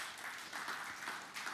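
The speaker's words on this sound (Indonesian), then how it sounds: "Yang setuju, beri tepuk tangan yang meriah bagi Tuhan Yesus." Church congregation applauding during a Sunday sermon, a soft, fairly distant patter of many hands that stays even across the short stretch.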